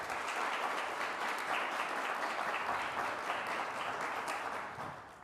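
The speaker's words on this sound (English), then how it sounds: "So let us give a big applause to all our fathers." A Sunday Mass congregation in a Catholic church applauds the fathers present: a steady, moderately faint wash of many hands clapping that tapers off toward the end.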